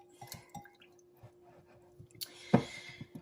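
Lemon juice, about four tablespoons, is poured into a bowl of pie filling, with soft drips and wet squishes that end in a brief, louder splash over a faint steady hum.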